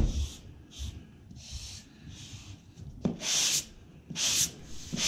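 Repeated scratchy rubbing strokes of a sanding sponge on drywall, soft at first, then several loud, close sweeps near the end.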